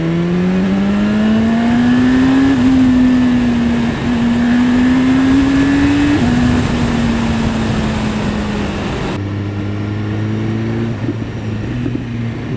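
A 2015 BMW S1000RR superbike engine revs steadily while being ridden, its loud, continuous drone rising and falling in pitch, then dropping to a lower note near the end, with no talk over it.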